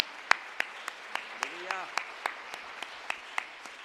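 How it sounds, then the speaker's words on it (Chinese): A church congregation claps together in a rhythmic, fairly quiet burst of applause, beats landing roughly three times a second, while a voice speaks over the clapping. "咱将咱的双手拍热烈掌声来归应咱的上帝"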